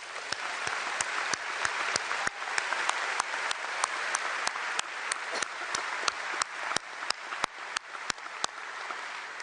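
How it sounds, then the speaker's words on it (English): Applause from a large audience at a patriotic society's congress on national defense night, a steady, distant wash of clapping with sharp individual claps standing out, lasting the whole stretch. "a big round of applause"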